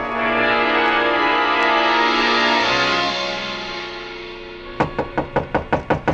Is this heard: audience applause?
no